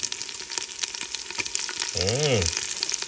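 Onions sautéing in a pan for a Filipino upo and misua dish, a continuous close sizzle with crackles, and a brief voice rising and falling mid-clip over the frying.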